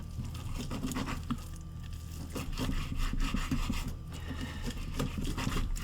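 Chef's knife sawing and chopping through ingredients on a wooden board while prepping baked beans for a pressure cooker, a steady rasping, scraping cut with small taps, close and moderately loud, with no talking.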